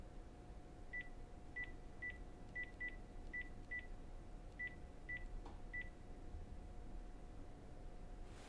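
Telephone keypad dialing tones, about a dozen short evenly pitched beeps spaced irregularly over a steady hiss, faint and close, with no voices.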